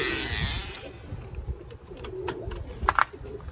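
Pigeons on a road-training release coo and call faintly outdoors, soft calls scattered through the moment with a couple of sharper chirps near the end, under light background noise.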